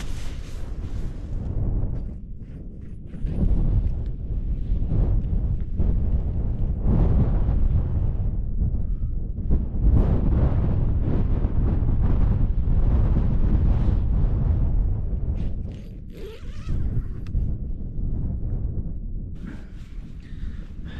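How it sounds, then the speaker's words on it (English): Strong wind buffets the microphone in loud, continuous roaring gusts for the whole stretch at a night wild camp on Kirk Fell, with a brief lull near the end before it picks up again. "Well, what a night that was. Pretty windy."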